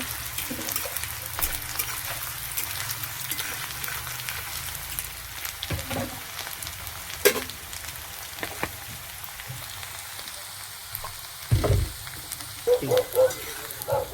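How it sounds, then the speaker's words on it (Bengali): Onions fry in a pan as a steady, low sizzle, with a few brief clinks and scrapes of stirring that rise near the end. "পেঁয়াজটা ভালো করে একটু ভেজে নেব।"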